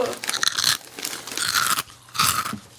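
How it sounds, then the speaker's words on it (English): A crunchy snack is chewed close into the microphone, giving several loud, crisp crunching bursts in an irregular rhythm with short pauses between bites. "Chomp. Crunch ASMR into the mic."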